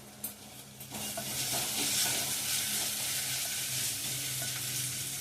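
Green chillies and curry leaves fry in oil in a pan for chana dal masala curry, a loud, continuous sizzle and hiss with a sharp burst near the start and spoon-stirring scrapes throughout.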